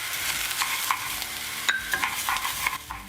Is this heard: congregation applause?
no